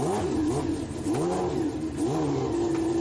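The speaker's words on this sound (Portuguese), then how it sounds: "Senhores, liguem os seus motores." A racing car engine revs repeatedly, its pitch rising and falling in rhythmic surges, loud and close with no voices.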